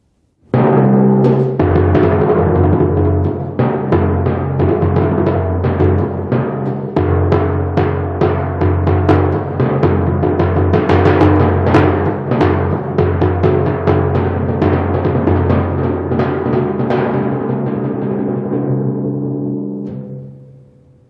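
Timpani etude played on a set of kettle drums with frequent hand dampening, a dense run of resonant strokes and rolls over about twenty seconds, notes often cut short, loud and close, fading at the end.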